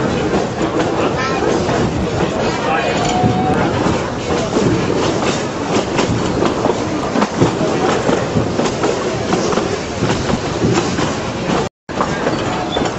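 A narrow gauge coal-fired steam train running along the line gives a loud, dense, continuous rumble with rhythmic clickety-clack from the wheels. The noise is close and steady, broken by one brief dropout near the end.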